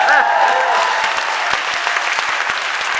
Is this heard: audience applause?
yes